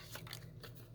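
Scissors snipping through fabric scraps, giving a few quick, faint, close cuts in an irregular rhythm over a low steady hum.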